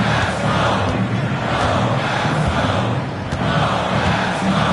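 Crowd cheering in an NBA 2K basketball video game, a dense steady roar of many voices swelling and holding throughout, loud and continuous with no clear talk over it.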